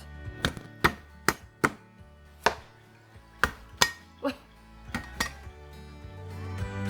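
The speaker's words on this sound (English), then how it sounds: "You can bruise the shallot with your knife to allow the juice to come out." Knife blade thumping shallots against a cutting board for Thai seafood tom yum, a dozen sharp, close knocks at an uneven, unhurried rhythm with quiet pauses between them.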